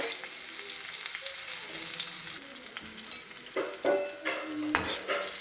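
Asafoetida, chopped green chillies, cumin and curry leaves sizzle in hot oil as a tempering for cucumber salad: a close, continuous crackling fry with a few sharper pops and spoon clinks near the end.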